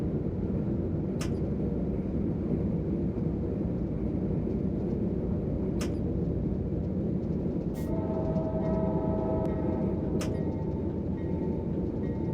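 A CSX Q235 autorack freight train in the Run 8 simulator rumbles steadily and heavily, with a few sharp metallic clanks and a brief tonal squeal partway through, no voices.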